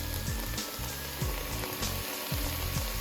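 Garlic sizzles and crackles steadily in a hot pan for a beef stew, a close, continuous frying hiss with a few soft stirring knocks and no voices.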